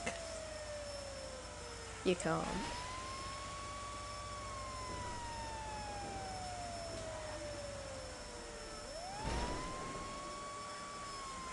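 A fire engine siren in Grand Theft Auto wails in long rising and falling sweeps over a steady engine hum, with brief bursts of noise and a short spoken line.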